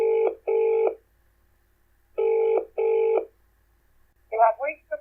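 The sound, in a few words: telephone ringing on a call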